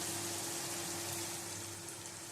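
Spice paste frying in oil in a pan for puti fish curry, giving a steady close broadband sizzle with a faint constant hum beneath, with no talking.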